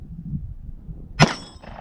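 A single shot strikes a steel target at an outdoor range, giving one sharp metallic clang that rings briefly over a quiet, low rumbling background.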